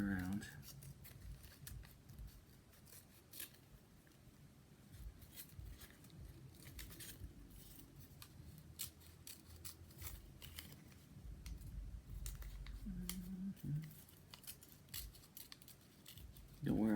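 Scissors snip and cut along a drawn line in paper, a steady run of quiet crisp clicks and slices close by, with a voice talking at times over the cutting.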